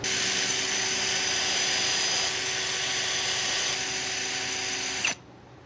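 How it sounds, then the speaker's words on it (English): A cylinder hone spins inside a bore on an axle housing of a 1952 International L-122 4x4, a loud steady close whine that runs for about five seconds, then stops abruptly. "let's run the hone through it"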